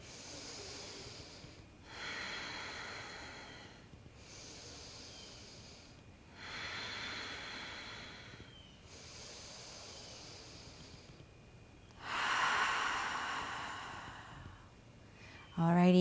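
Slow, deep breaths during a yoga session, about four long inhale-exhale cycles, close and soft with airy hiss, each roughly two seconds long. A louder, fuller breath comes near the end.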